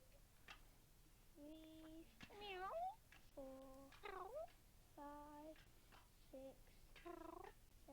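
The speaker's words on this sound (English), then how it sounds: "Charlie's a good cat." A cat from a British public information film meows repeatedly in a series of clear, drawn-out calls with short gaps between them, close and distinct over a faint low background hum.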